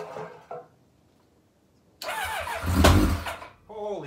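A 1990 Kawasaki ZX-7 motorcycle with a loose oil line and a leak, being restored, cranks briefly then fires into a loud, close, rough engine roar that swells and fades, with voices talking over it.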